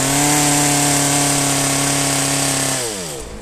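A long-reach petrol hedge trimmer's engine buzzes loud and steady while cutting a hedge, then its pitch drops as the throttle eases near the end.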